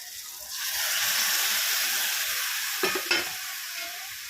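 Steamed spinach goes into a hot pan of mashed tomato and onion, giving a steady soft sizzle and hiss with a couple of brief scraping stir sounds near the end.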